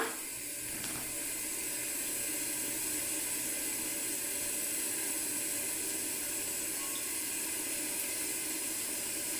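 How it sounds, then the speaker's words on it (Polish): Water runs steadily from a kitchen tap, a constant hissing stream that stays even and fairly close for the whole stretch, with no talking. "jaka jest najlepsza woda, to oczywiście ta prosto z kranu"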